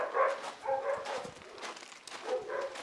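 Dog barking behind a closed door, a run of sharp muffled barks and yips repeating in bursts, moderately near but dulled by the door.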